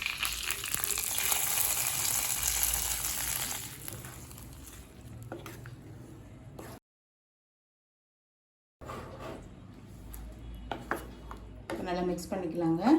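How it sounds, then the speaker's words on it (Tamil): Asafoetida and curry leaves sputter in hot oil for a brinjal kootu, a loud sizzling hiss at first that fades to softer frying with spoon scrapes, a brief silent gap, then clinks and a voice talking. "கொஞ்சம் பெருங்காயம், கொஞ்சம் கருவேப்பிலை. தாளிச்சுக்கலாம்."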